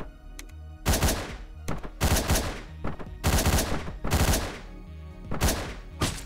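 Gunfire in the top-down video game Hotline Miami comes as five or six sharp, loud blasts in quick succession, each burst ringing briefly before the next, with no talk over them.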